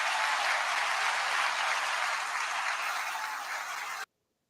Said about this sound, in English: thank you for clapping for that